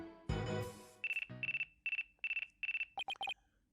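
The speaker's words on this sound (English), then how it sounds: "Looks like I have a phone call." A phone ringtone from the game Apollo Justice: Ace Attorney chirps in quick repeated beeping bursts after a short musical sting, loud and clear with no talk.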